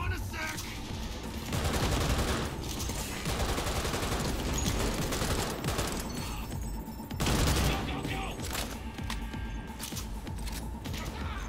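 Dense, sustained gunfire from a Cyberpunk 2077 firefight pounds nearly without pause, with automatic bursts and rapid shots layered over each other and brief dips before the barrage surges again.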